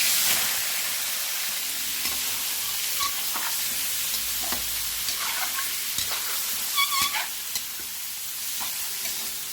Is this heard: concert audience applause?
no